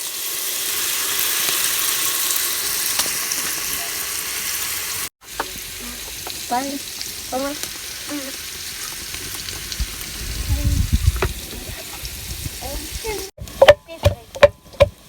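Ridge gourd peels sizzle and crackle in hot oil with salt in a village kitchen, a steady frying hiss that cuts out briefly, then returns with stirring clatter and sharp utensil knocks near the end.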